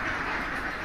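A dense flock of Itik Pinas F1 ducks on a ground-setup farm housing 4,000 birds quacks continuously as a loud, overlapping chorus.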